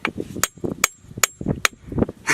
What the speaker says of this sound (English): I want to try hitting it with a hammer